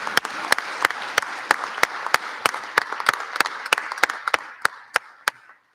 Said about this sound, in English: Everyone give him a round of applause for speaking us today.